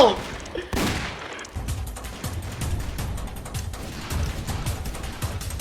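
Gunfire in a Roblox wild west game, a burst of sharp shots followed by steady rapid firing and mechanical clatter, loud and continuous throughout.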